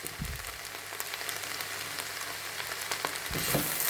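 Potatoes being mixed with turmeric and chilli powder in a hot pan give a continuous close frying sizzle, with a few stirring knocks near the start and end, no voices.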